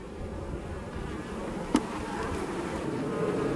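Honeybees hum and drone around an opened hive during a first spring inspection after a cold Texas winter, a dense steady buzz close by with one brief sharp knock partway through.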